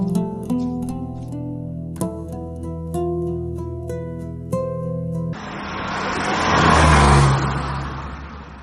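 A car engine starts and revs up, a rising roar that swells loud and peaks before easing, following a stretch of tonal background music with no speech.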